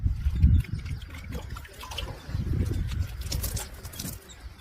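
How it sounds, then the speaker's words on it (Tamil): Cloth being rinsed and swished in a basin of water to test watermelon for chemical dye, giving close, uneven splashing and dribbling sloshes that swell and fade over several seconds, no talk. "இது என்ன பண்ணணும்னா தண்ணியில அலசணும்."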